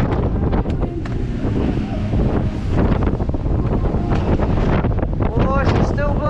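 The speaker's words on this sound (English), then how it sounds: "Still windy." Strong wind roars and buffets the microphone nonstop, a loud, gusty rush that drowns out everything else for the whole stretch.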